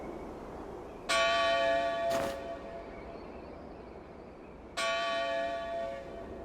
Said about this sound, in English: That's the Bell of Dawn.